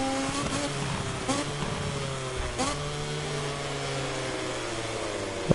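A MotoGP racing motorcycle from a video game, its engine whining steadily with rising and falling revs and a few sharp gear-change blips, moderately loud and continuous with no voices.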